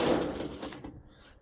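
Door of a rat rod truck swinging shut with a solid thunk, followed by a brief fading rattle, close by and without speech.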